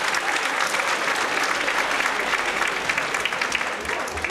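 An audience at a studio anniversary gathering applauds warmly, a dense, sustained wash of clapping from many hands that stays loud and even throughout.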